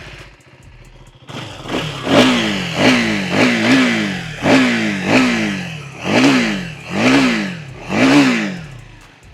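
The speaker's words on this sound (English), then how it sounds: "let me give you a quick listen of the exhaust note of this motorcycle." A 2025 KTM 390 Enduro single-cylinder motorcycle revs its exhaust about eight times in a steady rhythm, each loud rising-and-falling blip following a quieter idle at the start, heard close with no talking.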